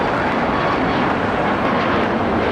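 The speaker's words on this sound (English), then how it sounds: "next departure we have United, 737, taking off" United Boeing 737 taking off at Los Angeles airport, a loud, dense, continuous engine roar holding steady and close, with no voices.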